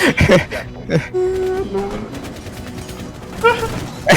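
Scattered gunshots crack and pop in Rainbow Six Siege, a few quick bursts mixed with a voice and background game noise.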